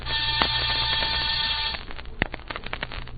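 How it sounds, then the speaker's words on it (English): An apartment door buzzer in an old-time radio detective drama sounds as a steady electric buzz for under two seconds, then cuts off, followed by faint knocks and rustles. "I rang one buzzer."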